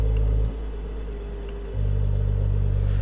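A 2022 Mercedes E53 AMG Coupé engine in comfort mode with its exhaust valves closed gives a low, steady idle rumble that briefly softens before returning to a fuller drone, heard alone.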